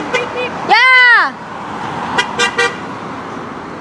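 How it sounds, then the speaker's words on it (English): Car horn honking in traffic, one loud sustained toot near the start followed by a few shorter honks, with voices talking around it. "Honk the horn!"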